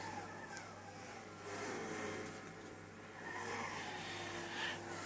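Race car on racing soft tyres lapping Bathurst in Gran Turismo 6, a faint, steady engine drone that swells and eases as it accelerates, with no voices.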